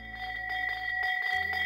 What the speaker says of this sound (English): The town crier's got his bell out.